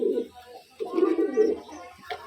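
Pet Giribaz pigeons in a keeper's loft coo in low, rolling phrases close by, with a short pause between bursts.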